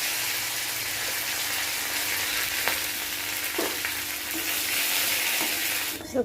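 Curry leaves, with dried chillies and five-spice, crackle and sizzle loudly in hot oil, a steady frying hiss with no voices.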